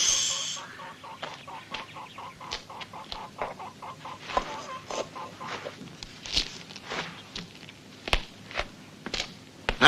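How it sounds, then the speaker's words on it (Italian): Chickens cluck in short, repeated bursts with scratchy rustling and scuffing, fairly close and moderately loud, with no talk over them. "Costretti a rubare galline per placare la fame."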